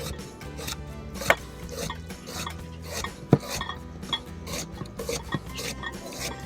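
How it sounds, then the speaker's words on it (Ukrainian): A knife chops carrots on a cutting board for Kherson-style borscht, with rapid, crisp strokes in an uneven rhythm, a few sharper knocks standing out, close and clear. "Моркву я також люблю нарізати ножем."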